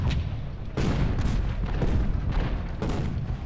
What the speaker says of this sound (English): Let's just let the cannons do their thing for a little bit.